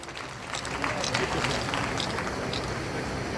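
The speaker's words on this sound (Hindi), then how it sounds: "एक बार तालियां भाई, जोरदार तालियां।" An audience claps at a student meet-up program for an education organisation, producing a steady, moderately distant patter of many hands that lasts throughout the clip over a faint background murmur.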